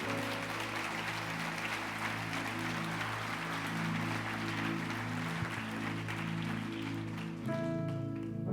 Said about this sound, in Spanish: den un aplauso al Señor, maravillosa.